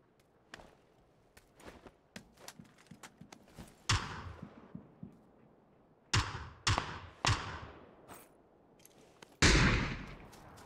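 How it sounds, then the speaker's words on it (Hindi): Gunfire in the battle royale game PUBG: scattered sharp shots, with several louder, nearer bursts punctuating a string of fainter, distant pops, no talking. "ये गोली चला रहा था लेफ्ट में"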